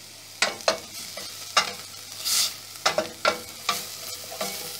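Chili bean sambal is sautéed in a pan, with sharp scraping stirs of a spatula in bursts over a low, steady sizzle, strokes spaced irregularly and heard up close.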